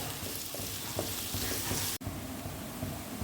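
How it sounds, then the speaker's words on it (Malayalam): Two medium onions, sliced lengthwise, fry in hot oil in a pan for a curry, giving a steady, close, dense sizzle with soft stirring scrapes that drops out for a split second before carrying on. "ഇതിലേക്ക് നമ്മൾ ഒരു 2 മീഡിയം സൈസ് സവാള നീളത്തിൽ അരിഞ്ഞതും കൂടെ ഇട്ട് കൊടുക്കുകയാണ്."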